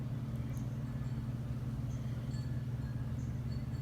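Goodman packaged air conditioner with its fan winding down after shutdown, a steady low droning hum with a faint whir above it, constant and even throughout.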